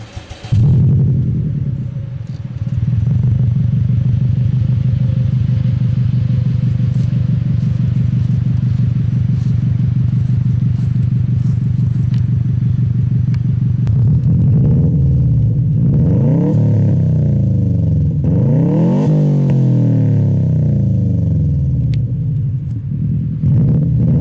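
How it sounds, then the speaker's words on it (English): A 2002 Subaru WRX boxer engine fitted with an Invidia N1 race exhaust starts and settles into a loud, deep, throbbing idle, then is blipped and revved several times near the end. "And if you want that boxer rumble, this exhaust will give it to you."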